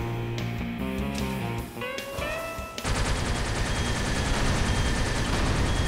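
Missiles launched by a tech bot enemy in the shooter Wrack, a dense, loud barrage of rapid repeated blasts that starts abruptly partway through over game music and keeps pounding steadily to the end.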